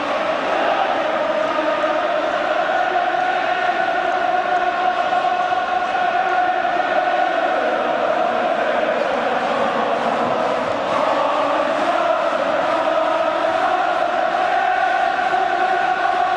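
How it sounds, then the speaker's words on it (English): A big football stadium crowd at England v Scotland, a 1981 Home International, roars in a dense, continuous wall of noise that swells and holds loud throughout, with no break. "the crowd rising to a crescendo now"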